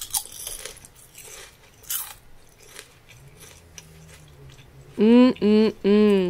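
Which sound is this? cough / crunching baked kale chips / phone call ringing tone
crunching baked kale chips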